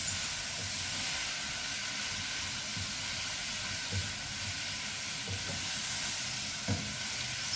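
Cabbage and onions cook in a pot with a steady hiss of steam and sizzle, a few soft stirring knocks and scrapes rising briefly above the constant wash, no speech.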